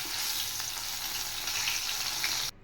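Fresh whole fish sizzling steadily in hot oil in a Bengali home kitchen, a dense continuous close frying hiss that cuts off abruptly at the end.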